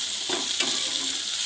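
Chopped onion and tomato are stirred together in a frying pan, with a steady close hiss of frying and a couple of soft scraping strokes, no voices.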